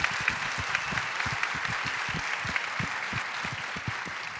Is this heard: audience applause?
yes